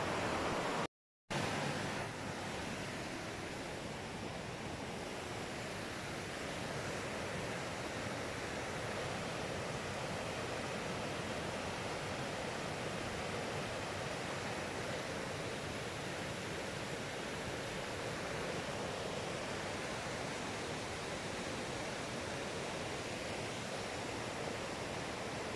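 Steady rushing water at a Welsh fishing spot, a continuous broadband roar that stays even and unbroken throughout after a brief gap at the very start, with no voices.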